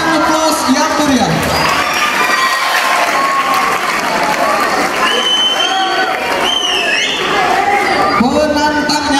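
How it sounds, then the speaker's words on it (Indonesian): A dense, loud audience claps and cheers continuously at a student debate event at an Islamic boarding school, with whoops and voices rising through the steady applause. "Berikan aplaus yang meriah."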